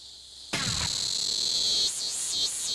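Loud, piercing buzz of male cicadas singing their mating call, starting abruptly and holding a steady whine that later swells and dips in rhythmic pulses, close and dominant.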